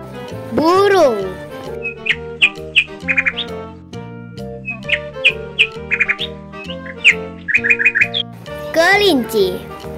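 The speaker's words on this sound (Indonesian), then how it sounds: "burung" Small bird chirping in quick bright tweets and short trills over continuous background music, with a voice calling out the animal's name at the start and end.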